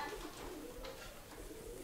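A bird coos in low, soft repeated notes, fairly close, against a steady background hum with no talking.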